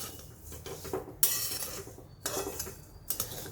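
A spoon scrapes and rattles roasted fennel, sesame and flax seeds around a hot kadhai in steady, close strokes, with short metallic clinks and gritty rustling in repeated bursts.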